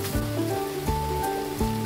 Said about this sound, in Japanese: 雨降ってきたな。